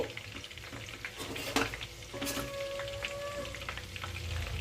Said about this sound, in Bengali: চিকেন স্যাটেগুলো ভেজে নিতে হবে।